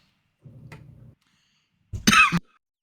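Two bouts of coughing during an online tabletop Dungeons & Dragons game: a softer, muffled stretch, then a short, loud, harsh cough burst, close to the microphone with no talk.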